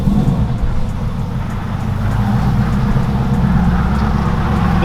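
Whipple supercharged Mustang GT running on E85 with wide 305 front tires, a steady, loud roar of road and tire noise under constant engine drone while driving, with no letup.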